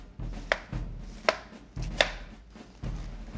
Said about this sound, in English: slice it evenly all the way through the pineapple